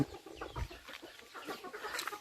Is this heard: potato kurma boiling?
no